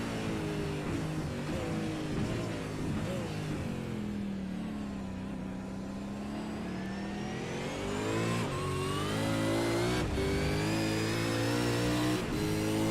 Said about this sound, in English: You can hear the gearbox whine of these cars in harmonious attitude with the sound of the engine.